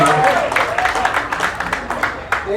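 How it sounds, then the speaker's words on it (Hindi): Applause from the audience at a stage play, with scattered claps rising over a murmur of voices and a person talking through it, moderately loud and continuous. "और जोरदार तालियां"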